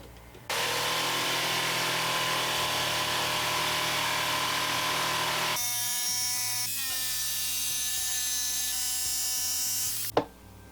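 A Bosch PST800PEL jigsaw cuts wood with a loud, steady motor whine and buzzing blade that runs for about ten seconds, shifting pitch partway through before stopping.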